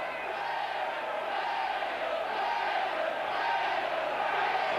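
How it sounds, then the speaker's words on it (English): A Wigan rugby league crowd roars steadily through an afternoon cup tie against Castleford, a dense, continuous wall of massed voices at even loudness with no break. "Wigan crowd roaring the team on right behind them this afternoon in this cup tie"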